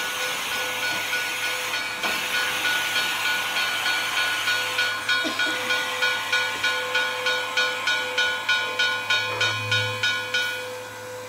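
A train hisses with escaping steam while its wheels clatter in a steady, evenly spaced rhythm that grows quicker and more regular, heard close and fairly loud with no voices.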